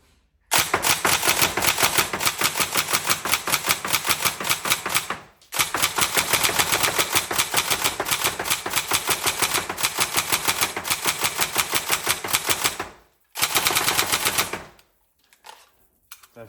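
A TM 416 Delta tan Next Gen airsoft AEG rifle fires long rapid full-auto bursts, loud and close, with a rattling mechanical cadence broken by two brief pauses and a short final burst.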